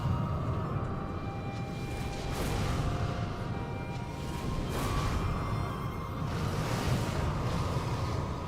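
Wind in the video game Sekiro blows in a continuous rushing roar, swelling and easing in gusts, with no voices.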